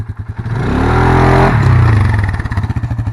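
A 2020 Polaris Sportsman 570 ATV engine revs hard and close during a wheelie pull, holding a loud, rising drone for about two seconds before dropping back to a throbbing idle.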